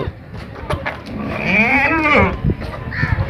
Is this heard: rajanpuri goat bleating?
yes